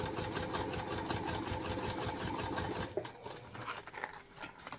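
A sewing machine stitching a Moon Bag hums quietly with a rapid, even rhythm for about three seconds, then stops, leaving soft handling noises from the fabric.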